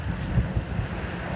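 Wind gusting outdoors, a steady low rumble buffeting the microphone with gentle surges, loud and close, no voices.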